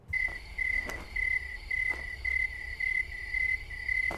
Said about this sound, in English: Man City's crowd noises are just crickets